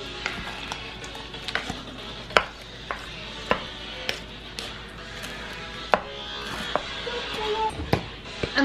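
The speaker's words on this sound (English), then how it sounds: "Stir this up best you can with the frozen in there." Brown sugar gets stirred into frozen ingredients with a spoon, giving a run of sharp, irregular clacks and knocks against the pot over a low background scrape.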